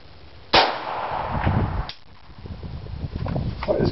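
A Smith & Wesson 22A pistol is fired outdoors, one sharp close crack followed by a fainter second report, with some background rustle around the shots.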